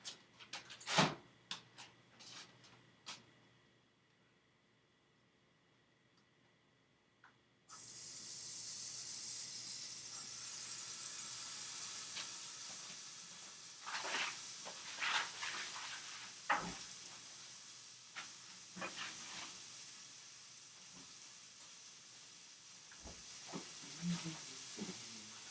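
After a quiet start with a few clicks, steady crackling sizzle of two strips of thick-cut bacon frying in a pan fills the rest, with occasional pops and clatters.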